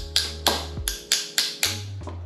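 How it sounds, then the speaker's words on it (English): Sharp metallic taps from knocking the float bowl loose on a Kohler engine carburetor from a Toro mower, six distinct close raps spaced about a third of a second apart over a low steady hum. "when you unscrew this bottom piece, you want to knock off the bowl here"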